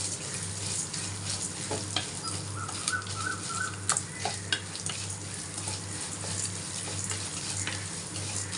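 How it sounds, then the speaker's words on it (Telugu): Coriander seeds dry-roasting in a pan alongside urad dal, with soft continuous sizzling and occasional stirring scrapes, close and fairly quiet. "ధనియాలు ఇది మంచిగా వేగాలండి దోరగా వేగాలి వేయించుకోవాలి మంచిగా"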